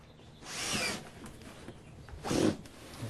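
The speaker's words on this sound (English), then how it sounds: "Maybe you can drill over on this side and replicate that." A power drill bores holes into a plastic planter container, two short whirring bursts with a lull between them, fairly close and moderately quiet.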